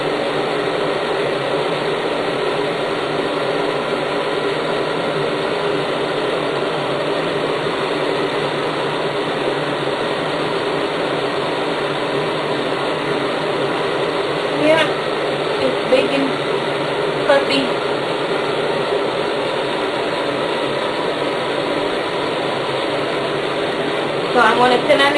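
A soft bonnet hair dryer runs with a steady, even whir of blowing air, close by and unchanging, with a few small knocks and rustles partway through.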